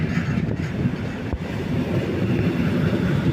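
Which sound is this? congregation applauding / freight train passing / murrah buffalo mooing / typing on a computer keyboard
freight train passing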